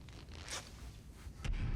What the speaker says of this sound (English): The zipper.